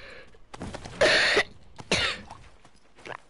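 A person coughs close up: two loud harsh coughs about a second apart, with softer throat-clearing sounds and breathing between them.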